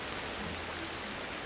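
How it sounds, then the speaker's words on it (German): Steady rain in the prehistoric survival game Ancestors: The Humankind Odyssey, a dense even hiss of falling water close around, continuous for the whole moment with no voices over it. "Oh nein, es regnet ja draußen."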